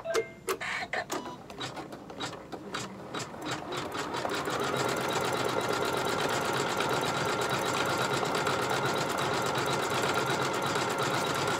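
A Janome 15000 sewing machine stitching steadily after a few scattered clicks, settling into a loud, continuous mechanical whir with a fast rhythmic stitch pulse.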